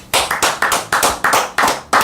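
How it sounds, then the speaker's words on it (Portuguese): Studio audience applause during a Brazilian talk show, a quick run of loud, evenly spaced claps about four per second, close and alone with no talk over it. "Eu queria uma salva de palmas nesse estúdio por convidar a gente."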